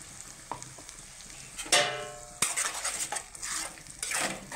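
Spice paste hits hot oil in a pan, sudden bursts of sizzling with clanks of a spoon against the pan, stirring scrapes following, close and fairly loud, no voices.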